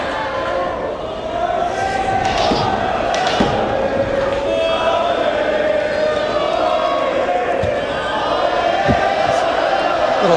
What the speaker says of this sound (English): Little soccer chant breaks out here.